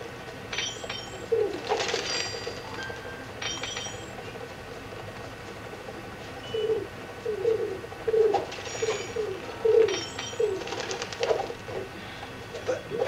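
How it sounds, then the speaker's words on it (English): Pigeons coo repeatedly in the video game Sly 4: Thieves in Time, with soft, throaty calls recurring in loose bursts over a quiet ambient background and faint clinking. "Pigeons."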